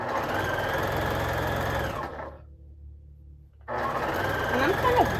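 A sewing machine stitches quilt album blocks together in a fast, steady mechanical whir, stopping for about two seconds before starting again, close and fairly loud.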